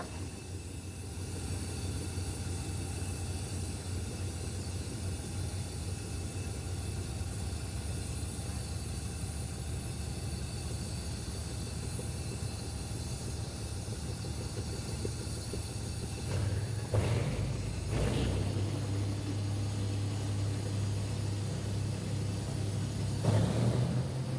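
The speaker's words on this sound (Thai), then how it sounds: "เร่งเครื่องแล้วค่ะ" Diesel-electric locomotive GEK 4018 idling with a steady low engine drone, then revving up louder around the midpoint and again near the end, heard at night with no talk.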